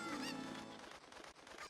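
Chickens from Ocarina of Time: Master Quest squawk and cluck in a quick, honking burst, fairly faint, alone with no talk.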